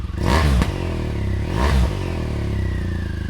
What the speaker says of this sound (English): Revs it a little bit here as well.